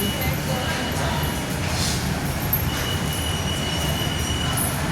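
A metro train rumbles along steadily with a dense, continuous roar and faint squeals from the wheels, loud and close throughout.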